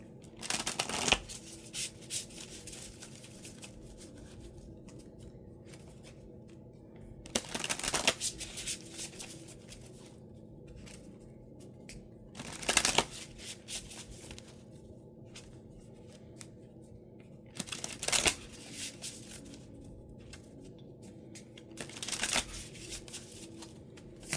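Tarot cards being shuffled in bursts, several distinct riffling and sliding passes separated by quiet pauses, close and fairly loud against a faint background hum.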